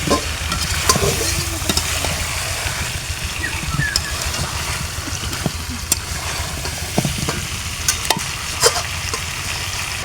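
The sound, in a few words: stirring potatoes into spiced curry on a clay stove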